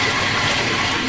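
Tap water gushes loudly and continuously into a bathtub during a bath, a brief close rush of flowing water with no voices.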